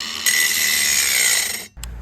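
Cordless power tool cutting through a shotgun barrel near the muzzle, a close, steady high-pitched grinding whine lasting about a second and a half before it abruptly stops, followed by a faint low rumble.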